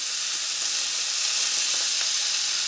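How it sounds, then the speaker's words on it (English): Sausage browning in a pan, sage-flavored, gives a steady close sizzle and hiss of frying that runs without a break and without talk. "The first step in our appetizer will be browning our sausage"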